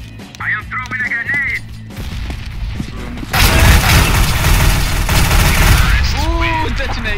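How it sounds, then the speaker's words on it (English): A grenade detonates in CS:GO with a sudden loud, broadband blast whose rumble carries on for several seconds, and voices talk before and after it. "Ooh, detonation!"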